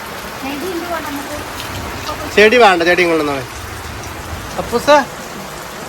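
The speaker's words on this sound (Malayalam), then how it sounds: "നല്ല മഴ ഉണ്ട്" Steady heavy rain hisses throughout, with a voice talking over it and a few brief higher voice bursts near the end.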